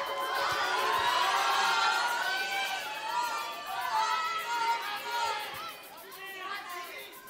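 A live television song-contest finale crowd cheers and chatters at the winner announcement, a dense, sustained roar of many voices with shouts and whoops rising and falling steadily throughout.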